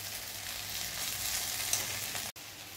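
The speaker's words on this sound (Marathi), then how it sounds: "इथे आता मीठ आणि शेंगदाण्याचा कूट घातल्यानंतर थोडा वेळ परतू द्यायची आहे" Okra frying in a pan with salt and crushed peanuts gives off a steady, gentle sizzle. A brief clink comes near the end, then the sizzle returns, with no talking.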